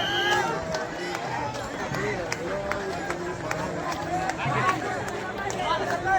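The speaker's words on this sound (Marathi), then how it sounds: "दर्शन घेण्यासाठी खूप अशी भाविकांची गर्दी." A dense crowd of devotees gathered for a palanquin procession on a pilgrimage walk, a steady babble of many voices and footsteps surrounding the listener, with closer people talking throughout.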